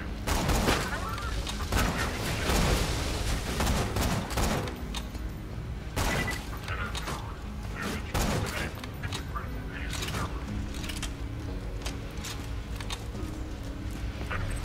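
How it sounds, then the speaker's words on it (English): Exploding dual shotguns fire in Borderlands 2, dense bursts of booming blasts and crackling detonations in rapid clusters, loud and close, with a voice talking over parts of the barrage. "Got those dual shotguns."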